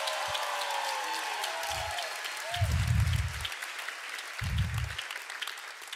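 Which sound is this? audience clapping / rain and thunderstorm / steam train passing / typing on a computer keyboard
audience clapping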